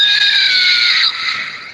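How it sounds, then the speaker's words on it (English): Several high, sustained screams overlap in a continuous loud wail from a big haunted scary house on a foggy Halloween night, fading slightly toward the end. "you hear loads of screams coming from the big scary house"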